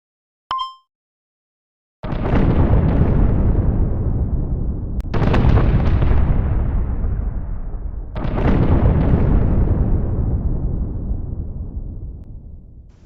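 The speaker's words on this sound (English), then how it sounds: "The explosions in space were never that loud before." Three huge booming explosions in space from an SFM Batman film follow a brief beep, each a loud roar that slowly fades before the next.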